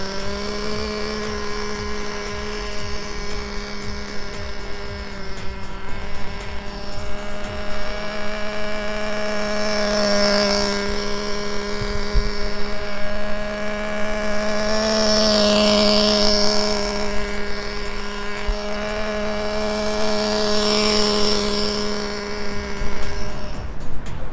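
Small two-stroke nitro engine of a 1/8 scale nitro short course truck revving steadily at moderate throttle during break-in, a loud continuous buzzing whine with slight pitch swells, close by and alone.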